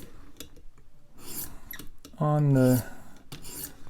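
A knife blade being drawn across a sharpening stone, short rasping strokes close up, interrupted by a brief loud tonal scrape, with a few soft words spoken around them.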